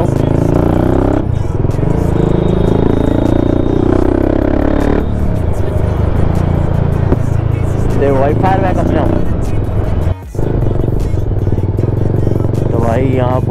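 An RR310 sport motorcycle with a new aftermarket exhaust rides through street traffic past an auto-rickshaw, its engine droning loud and steady throughout with someone talking over it.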